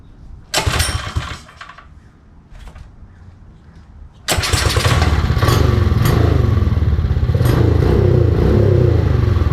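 A Predator 212 small engine with a CDI performance ignition pulls a few short cranking bursts, then catches and runs loud and steady close by, its rough idle continuing to the end with no talk.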